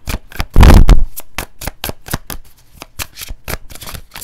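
A deck of tarot cards is shuffled close up, a rapid series of crisp riffling snaps and slaps with one louder burst near the start, alone without talk.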